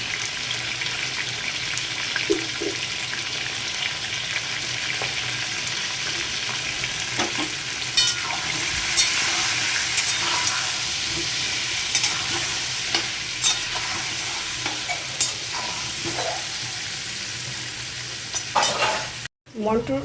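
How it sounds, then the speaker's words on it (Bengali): Potatoes fry in a pan of oil, salted and dusted with turmeric, ahead of a mutton curry: a dense, continuous sizzle with stirring clatter throughout, close and steady, ending in an abrupt cut. "মটনের জন্য আমি আলুগুলোকে আগে ভেজে নিচ্ছি"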